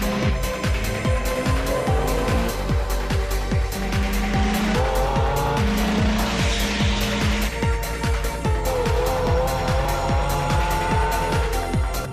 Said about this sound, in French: Je suis en train de rouler à plein tube sur l'autoroute de la baie.